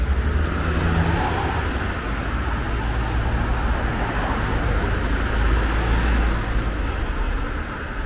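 Road traffic at Prinzregentenplatz in Munich, a steady dense wash of car and bus noise rolling past close by, continuous and fairly loud throughout.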